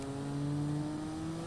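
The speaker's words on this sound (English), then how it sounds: "Yeah, we're just gonna rev it here." A custom car in BeamNG Drive, with a turbo engine that revs to 11,000 RPM, holds a loud, steady high-rev engine drone for a moment, with no talking over it.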